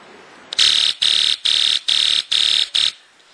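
A UM3561 melody generator IC buzzer gives a loud, shrill electronic tone pulsing in six even bursts, each about a third of a second, close and harsh with short gaps between.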